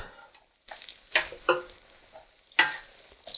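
Potato cakes made from leftover mashed potato fry in a pan, with bursts of crackling sizzle and scraping as they are turned, broken by quieter pauses.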